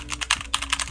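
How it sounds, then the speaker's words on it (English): Fingers type rapidly on a computer keyboard at home, a close, dense patter of clicky keystrokes heard alone without talk. "here's my keyboard."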